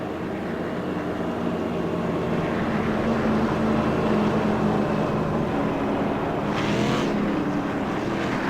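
Race cars at Langley Speedway roar together as the field restarts in single file during a CRA special event, a steady loud engine drone with a brief sharper surge near the end.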